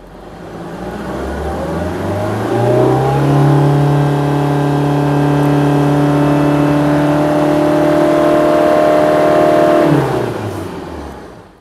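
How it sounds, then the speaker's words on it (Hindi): A high-mileage Tata Indica Vista with 270,000 km revs at full acceleration. The engine note climbs loud and close over about three seconds, holds at a strained steady pitch, then drops away sharply near the end, with no voices. "तो this was the complete acceleration"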